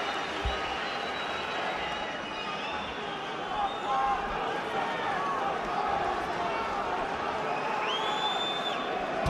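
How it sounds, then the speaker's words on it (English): Arena crowd at the Carl Froch vs Jean Pascal boxing fight roars steadily in a broad, distant wash with occasional whistles, under a commentator's talk. "And now the crowd raise their voices once again"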